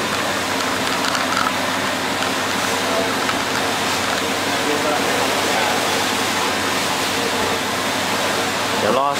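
A headlight restoration steamer kettle heats its coating fluid, giving a constant loud rushing hiss that holds steady throughout.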